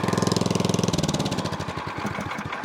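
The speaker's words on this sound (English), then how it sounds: "Look at that, even idles like a champ too." A Craftsman snow blower's small engine idles steadily close by, with an even, rapid pulsing that softens slightly partway through, and no voices are heard.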